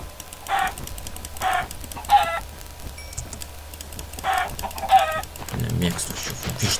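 Chickens in the Minecraft video game cluck in short, sharp bursts, about five calls spaced irregularly over a steady low background hum, with a brief louder rustle near the end; no one speaks.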